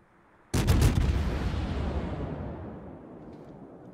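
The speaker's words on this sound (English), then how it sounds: "the fort is shooting at something, at someone" A coastal fort fires its heavy guns in a naval combat game, a sudden loud boom with a sharp crack that rolls out into a long, slowly fading rumble, with no voices over it.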